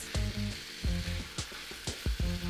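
Chicken sizzles in a hot pan, with a rhythmic series of loud spatula scrapes and clacks against the pan over a bright, steady frying hiss.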